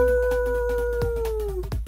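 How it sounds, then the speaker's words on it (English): A dog howls in one long, steady, sustained tone, loud and close, that slides slightly downward and breaks off near the end with a few short yips. "is she going to do the howl? She can do the howl."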